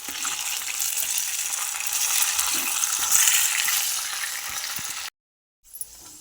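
Rice-flour-coated potatoes frying on a medium flame make a loud, dense, crackling sizzle that holds steady for about five seconds, then cuts out abruptly before a brief faint return.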